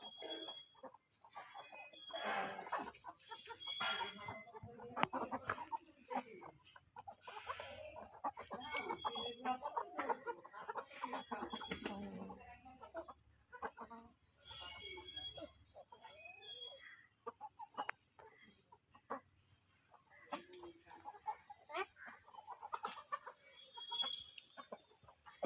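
Farm chickens being fed in Odisha cluck and squawk busily at close range, with a steady jumble of overlapping calls and occasional quieter gaps.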